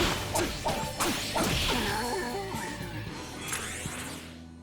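An Agidyne fire spell striking a wall in Raidou, a series of loud whooshing cracks and smashes up front that settle into a fading, crackling roar.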